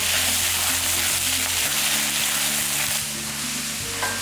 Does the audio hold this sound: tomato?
yes